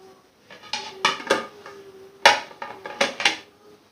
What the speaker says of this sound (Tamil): இப்போ நம்ம கேக்கை அந்த பிளேட்டுக்கு ட்ரான்ஸ்ஃபர் பண்ணுறேன்.